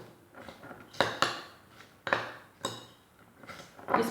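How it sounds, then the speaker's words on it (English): Chopped onion, fresh ginger and garlic being mixed into a chicken mixture on a small plate, a series of sharp clinks and scrapes of utensil against dish at irregular intervals, close and fairly quiet. "I'm just going to add it here inside the mixture, and I'll mix a little."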